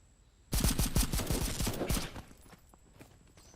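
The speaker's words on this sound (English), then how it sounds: "Gunshots." In the video game Kinki Spiritual Affairs Bureau, a rapid volley of about a dozen close, loud gunshots lasts roughly a second and a half, then trails into fading echoes and scattered softer reports.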